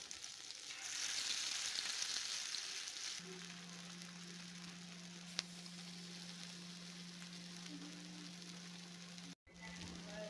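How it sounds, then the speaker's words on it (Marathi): Boiled eggs, capsicum and onion fry in oil in a pan over a low to medium flame, making a continuous soft hiss with a steady low hum running underneath for most of the time. "पॅनमध्ये तेल टाकून ही बॉईल केलेली अंडी आणि शिमला मिरची आणि कांदा हे चांगलं भाजून घ्यायचं आहे"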